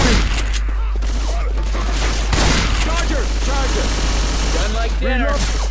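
Dense, continuous gunfire from Left 4 Dead 2 as players shoot at zombies, rapid bursts layered into a loud barrage, with voices shouting over the shooting.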